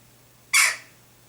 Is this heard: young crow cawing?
yes